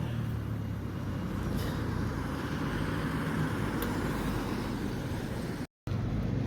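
Steady road traffic rumbling along a street in Haverhill, Suffolk, a continuous moderate wash of engines and tyres with no clear single pass-by, briefly cut off near the end.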